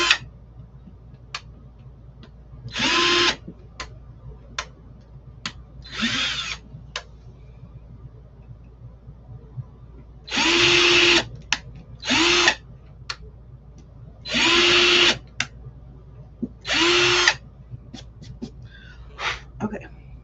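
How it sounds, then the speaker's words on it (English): A power drill bores a pilot hole into a wooden tray in short, loud whirring bursts separated by pauses, with small clicks and handling noises between runs. "So I'm just drilling a little pilot hole."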